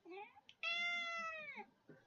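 A house cat gives a clear drawn-out meow close by, preceded and followed by shorter chirpy mews. A person speaks softly around it.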